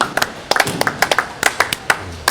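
A bowling tournament crowd at AMF Southtown Lanes claps in scattered, uneven bursts of sharp hand claps, loud and close, with a few voices mixed in.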